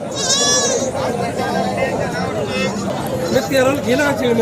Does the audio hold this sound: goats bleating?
yes